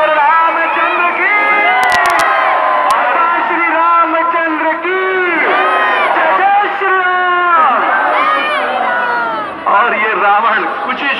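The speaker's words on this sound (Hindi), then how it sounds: "जोरदार तालियां बजाकर बोलिए सियावर रामचंद्र की" A large festival crowd at a Dussehra celebration in Bhopal's Bittan Market roars and cheers loudly, with shouting, whoops and many overlapping voices forming a dense, continuous din, a few sharp clicks near the start.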